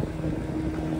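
A fishing boat engine drones as a low, steady rumble with wind-like noise over it, close and continuous for about a second, with no voices.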